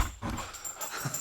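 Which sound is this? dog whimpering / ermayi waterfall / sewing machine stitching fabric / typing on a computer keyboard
dog whimpering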